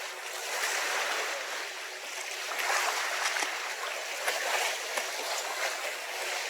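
A boat moving across the open ocean churns and splashes through the waves, producing a steady broadband hiss and rush of water, fairly close and continuous, with no talking.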